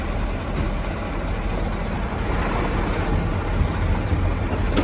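A truck sits with its engine running while the service brake is applied, giving a steady, loud low rumble of engine and cab noise throughout, with no other distinct events.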